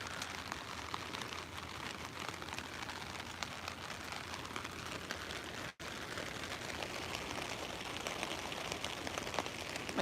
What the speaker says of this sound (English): My God, it's splashing like crazy right now. Like, it's really pouring hard outside.